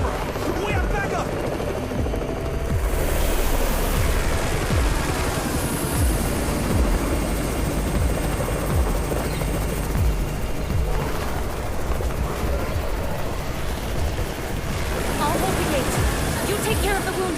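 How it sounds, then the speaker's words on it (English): A helicopter arrives in the zombie survival video game Undawn, its steady rotor roar filling the scene continuously and loudly, with game sounds and voices mixed in. "It's the Raven's chopper!"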